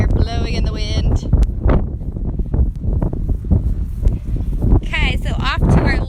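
Strong outdoor wind buffets the microphone in a steady low rumble during a trail ride at a horse park, with someone talking over it for most of the stretch.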